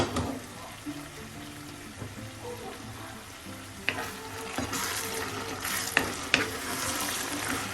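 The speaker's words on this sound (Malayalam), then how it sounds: "ഇടയ്ക്ക് തുറന്ന് പാത്രത്തിന് അടപ്പ് തുറന്നിട്ട് ഒന്ന് ഇളക്കി കൊടുക്കാം." Squid masala is stirred in a pan after the lid is lifted, a steady bubbling sizzle with scraping stirs and several distinct knocks of a spoon on the metal rim, close and moderately loud, without speech.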